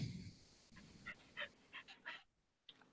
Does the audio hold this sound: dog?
yes